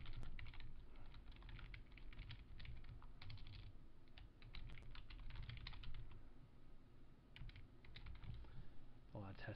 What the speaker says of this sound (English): here we're going to type in a little description.